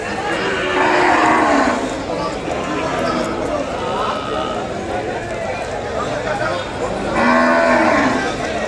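Ongole cattle low at a busy Sunday bull market in Kodada, with two long moos near the start and end standing out over crowd chatter and hoof sounds.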